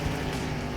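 Loud, droning car engine in the video game The Long Drive, a steady low rumble held close throughout with no talk.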